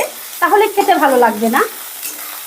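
Ginger garlic paste sizzles in a pan while being stirred, a steady frying hiss that runs throughout with a person speaking over it.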